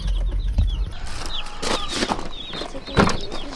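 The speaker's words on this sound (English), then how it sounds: "They're peeping like crazy." Cornish cross meat chicks in a delivery box, a dense chorus of high, rapid peeping chirps going on steadily throughout, close and fairly loud with bursts of louder calls and some rustling.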